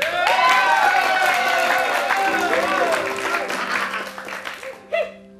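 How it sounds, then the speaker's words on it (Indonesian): Audience at an Indonesian comedy show breaks into loud applause and cheering, a dense crowd wash with a voice calling out over it, tapering off near the end before a final burst. "Tepuk tangan dong buat kalian semua di sini"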